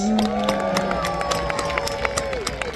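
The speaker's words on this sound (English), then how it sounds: "So round of applause please for the Normans!" An outdoor audience at the Arundel Castle history festival applauds and cheers for costumed Norman knights, a loud, dense and sustained wash of clapping and crowd voices lasting throughout.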